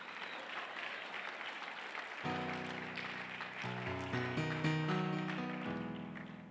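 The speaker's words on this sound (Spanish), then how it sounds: "Seguramente son las mujeres las que están aplaudiendo" Quiet clapping from a church congregation, the women applauding, soft and continuous, soon joined by sustained organ or keyboard chords that grow fuller underneath.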